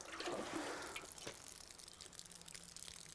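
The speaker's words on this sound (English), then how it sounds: "I water it until I'm sure it runs through the full" Water is poured over the soil of a small shohin bonsai pot, giving a soft splashing pour that fades into faint trickles and drips, quiet and close.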